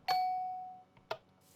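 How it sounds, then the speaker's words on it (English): A single bright bell-like tone from a Minecraft note block placed on gold rings out and fades slowly, followed by a couple of faint soft clicks. "Gold creates a sort of like bells sound."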